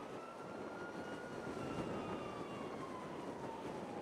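A jet aircraft in the video game Grand Theft Auto V drones steadily at moderate distance with a faint rising whine, alone for about four seconds before a short sharp burst at the end.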